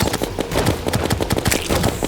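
A flak cannon in a video game fires in a dense, rapid stream of booming shots, loud and continuous with no pause.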